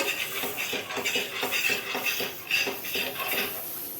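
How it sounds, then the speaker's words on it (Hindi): A spoon scrapes and taps against a pan on a medium-low flame while spreading ghee to grease it, a soft irregular series of metallic scrapes close by. "और अब मैं हल्का सा इस पर घी लगाती हूँ"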